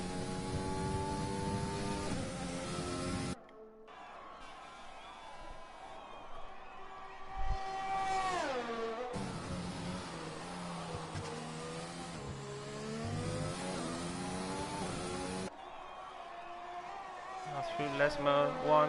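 A Formula 1 car lapping the Monza track in the F1 2020 video game, its engine revving steadily with pitch rising and falling through gear changes and corners, loud and continuous, while a commentator talks over it.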